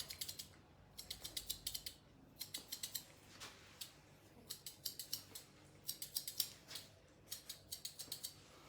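Grooming scissors snip at a Toy Poodle's fur in quick bursts of crisp metallic clicks, close up but fairly quiet, with short pauses between clusters of cuts and no talking.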